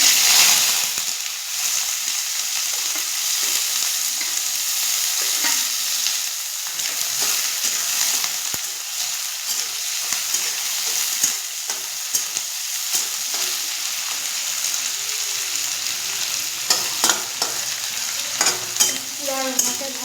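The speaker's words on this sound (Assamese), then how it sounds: "তেলত এতিয়া পিঁয়াজ" Onions frying in a little oil for a sour fish curry, a steady close sizzle crackling throughout with occasional stirring scrapes and pops, no voices.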